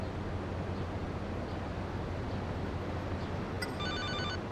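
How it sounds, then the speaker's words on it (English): A phone rings in the video game GTA Liberty City Stories, a bright repeating electronic trill that starts late and runs to the end over a steady low engine-like rumble. "I wonder if we're going to be getting a phone call now."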